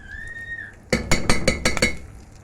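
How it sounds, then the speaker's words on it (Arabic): Metal spoon scraping and clinking against a bowl while scooping ghee, a quick series of close sharp taps after a brief tonal beep. "طبعا انا هاخد من الزبديه هنا معلقه سمنه، معلقه سمنه كده اهي"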